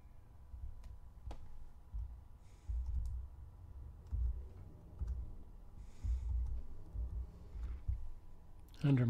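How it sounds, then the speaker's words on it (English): A computer mouse clicks while a software installer is opened on Ubuntu 16.04. There are a few faint, sharp clicks spaced over several seconds above a low room hum and soft background rustling. "So I'm going to click on that."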